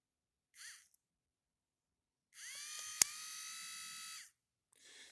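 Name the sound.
small DC electric motor running on a battery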